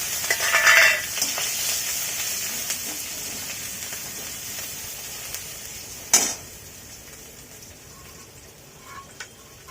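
Bay leaf, grated ginger and green chili hit hot oil with a sharp burst of sizzling that settles into a softer fry, broken by a clink of a utensil midway and faint stirring.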